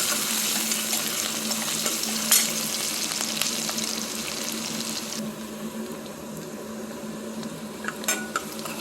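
Onions sauté in a pan for Chettinad fish curry, a continuous close sizzle with occasional stirring clinks and scrapes, fading slightly partway through.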